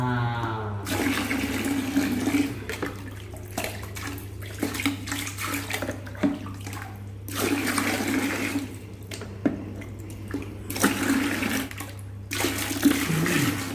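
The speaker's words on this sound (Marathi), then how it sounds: "पाण्याचा आवाज येतोय" Water runs steadily indoors, like a bath tap filling or someone washing, as a continuous broadband rush at moderate level with a few brief dips and no voices.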